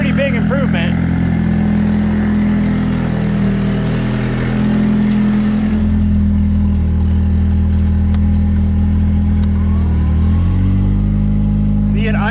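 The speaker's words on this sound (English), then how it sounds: "See, it idles up, but yeah, the compressor doesn't do anything. But you can hear the leak." A Nissan 180SX engine idles steadily with a leak, a constant mid-pitched drone with a slight dip in tone partway through, heard alone at close range.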